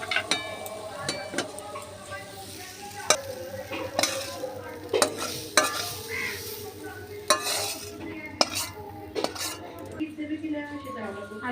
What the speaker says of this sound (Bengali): দেখুন পাট শাক আমার পুরো ভাজা হয়ে গেছে।